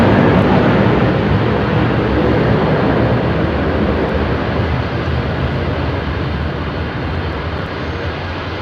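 An FT One Air Boeing 747 freighter departs runway 27R at London Heathrow, its engines producing a loud, dense, continuous roar that fades slightly as the jet moves away.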